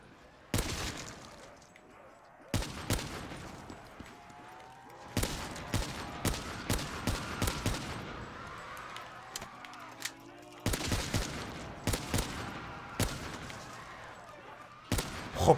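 Sniper rifle shots crack in Black Ops 3 gameplay, several sharp loud reports spaced out between quieter stretches of in-game sound, with some talk mixed in.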